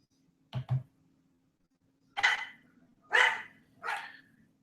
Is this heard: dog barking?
yes